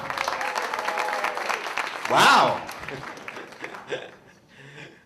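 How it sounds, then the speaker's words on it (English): An audience at a business pitch competition claps and cheers for a few seconds, with one loud cheering burst in the middle. A person exclaims briefly as the applause fades. "There's a lot of cheering from down south"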